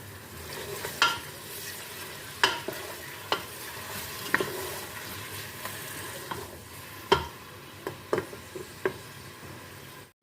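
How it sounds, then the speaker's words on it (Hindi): Onions fry quietly in hot cooking oil for chicken biryani, a soft continuous sizzle broken by sharp scrapes and knocks of a stirring spoon against the pan at irregular intervals. "अब इसमें हम प्याज डाल लेंगे। प्याज को हमें फ्राई कर लेना है।"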